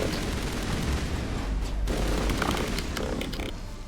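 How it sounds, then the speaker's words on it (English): Assault rifle fire in Mass Effect 1 on the planet Therum, a rapid rattling stream of shots that stays loud and continuous through the moment, with scattered sharper cracks and impacts and little talk over it. "this assault rifle is way better than my last one"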